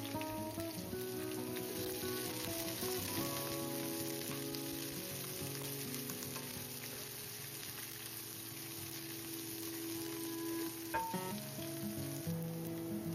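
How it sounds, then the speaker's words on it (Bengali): Onions frying in hot oil in a frying pan for a Bengali wedding-style chicken roast, giving a steady, even sizzle and crackle close by with faint background tones and no talk. "তেলটা গরম হলে এখানে 1/4 কাপ পেঁয়াজ দিয়ে দিব ভাজার জন্য।"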